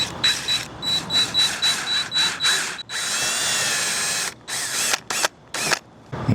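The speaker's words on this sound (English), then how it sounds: "So we're going to bore this now." A power drill bores into an air conditioning unit with a series of short whirring bursts, then one longer sustained run and a few more quick pulses, close and loud with no voices.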